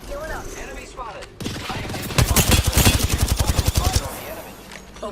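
Automatic weapon fire in Apex Legends rattles out in a fast, loud, close burst of repeated shots, with a game voice line and other in-game effects around it.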